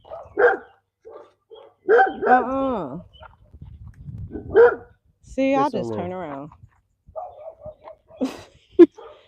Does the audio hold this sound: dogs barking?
yes